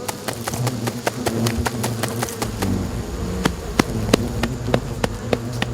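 Swarm of giant hornets buzzing densely as they fill a capture net at an underground nest, a steady loud drone with repeated sharp clicks and taps throughout.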